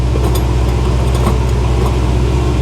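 A car engine runs steadily at idle, a close, continuous low rumble, while the shifter is moved into reverse on a vehicle whose shift linkage is out of adjustment.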